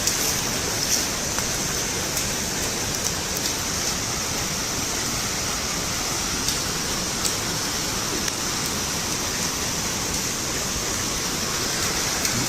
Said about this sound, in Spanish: La lluvia continúa